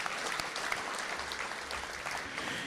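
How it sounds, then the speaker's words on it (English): An audience applauds staff at a high school Hall of Fame induction ceremony, with a steady, fairly quiet patter of clapping from a distant crowd. "if you could please stand up and give them a round of applause"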